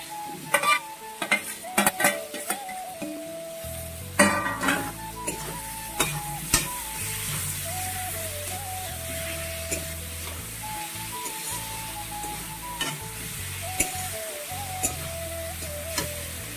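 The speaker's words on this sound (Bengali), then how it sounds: "ভালো করে ভেজে নিতে হবে এটা।" Pointed gourd and potato pieces fry in a pan with a continuous sizzle, while a spatula scrapes and taps against the metal in irregular strokes, close and fairly quiet.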